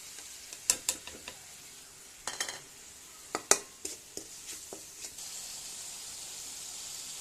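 Onion and garlic paste with spices frying in a pan gives a faint steady hiss, with sharp spatula clinks and scrapes against the pan in scattered bursts. No voices can be heard.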